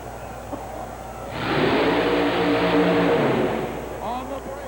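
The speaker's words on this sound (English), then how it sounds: "Tinky makes a full throttle run, and he'll stop with about 5 feet to spare." A supercharged 427 cubic inch Chevrolet monster truck at a 1991 USHRA event in Roanoke, Virginia, roars into a full-throttle run, its engine swelling from a distant rumble to a loud sustained blare, with an announcer talking over it.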